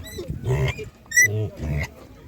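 Pigs at a village animal market in Khryplyn near Ivano-Frankivsk grunt and squeal up close in a few short bursts, with a high squeal in the middle.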